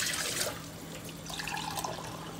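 Tap water runs steadily into a small cup in a home kitchen, a soft continuous splashing stream heard close up with no one talking.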